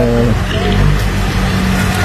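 An electric water pump motor that runs but fails to pump, a loud close steady hum with low rumbling tones, continuous for the whole moment with no speech.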